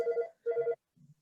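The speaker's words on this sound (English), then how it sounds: "I'm getting a phone call." An office telephone rings with two clear electronic trill bursts, then a fainter lower chirp, close and alone without talk.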